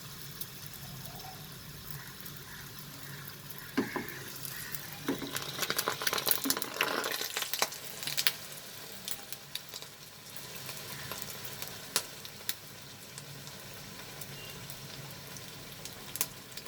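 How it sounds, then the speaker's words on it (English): Coconut kachori deep-frying in hot oil, a bubbling sizzle that swells as the sealed kachori is lowered in and then settles into steady crackling, close and moderately loud, with no talk. "And slowly I will drop it into the oil."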